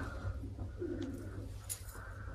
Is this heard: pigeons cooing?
yes